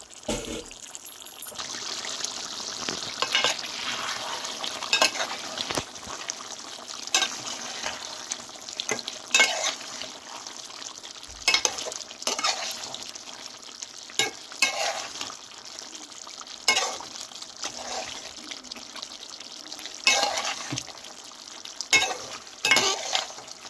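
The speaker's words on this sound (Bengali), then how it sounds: "মাংসটা যে কষাচ্ছি, কারি পাতা, তেজপাতা সব মশলা দিয়ে এত সুন্দর ফ্লেভার উঠছে" Mutton with curry leaves, bay leaves and spices, Bengali style, sizzles in an open pot while a spoon scrapes and stirs in repeated bursts, close and fairly loud, with no talking.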